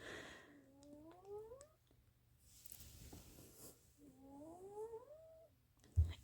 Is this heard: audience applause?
no